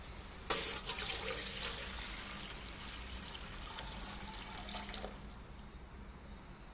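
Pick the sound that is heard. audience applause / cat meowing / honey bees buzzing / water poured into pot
water poured into pot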